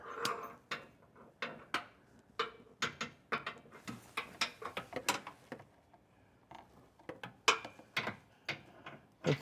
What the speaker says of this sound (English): Let's go back in and try to get these bottom ones torqued.